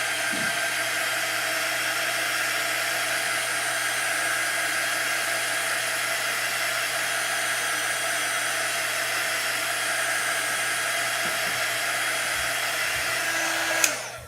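A hair dryer blows steadily at close range for the whole stretch, drying chalk paste on a craft piece, a constant loud whooshing drone that cuts off abruptly at the end.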